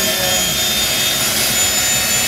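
A steady, loud jet engine roar from a high-power engine run on the XH558 aircraft, heard from the cockpit, fills the whole stretch, a continuous broadband rush with a faint high whine running through it.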